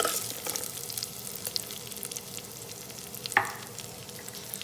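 Black pepper and cumin seeds sauté in ghee, giving off a faint, even sizzle with light crackles, plus one brief louder pop or stir partway through.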